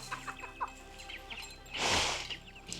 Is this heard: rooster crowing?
yes